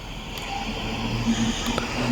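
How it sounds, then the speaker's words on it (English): Low rumbling engine noise of a lorry passing through a town at a distance, steady and muffled, with faint background sounds. "That sounds like a lorry going through the town."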